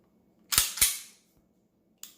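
Dry-fire trigger break of a Ruger Max-9 pistol indoors, two sharp close metallic snaps in quick succession, then a softer click about a second later, with no voices.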